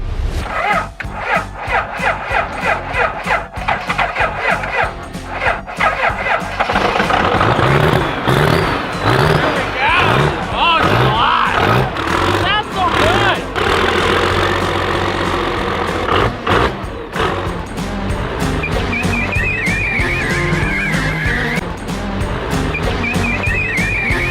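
Twin-turbo Cummins diesel engine swapped into a Ford Ranger, cranking with rhythmic starter pulses before catching and roaring into a loud, rough, rattly idle with revs rising and settling, recorded up close.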